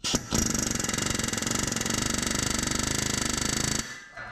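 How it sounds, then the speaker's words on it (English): A pneumatic air hammer with a long bit rattles in a fast, steady burst for nearly four seconds, then cuts off abruptly, working on a 1967 Ford Mustang barn find. "I'm gonna use an air hammer, a long bit, and give it a little shock therapy"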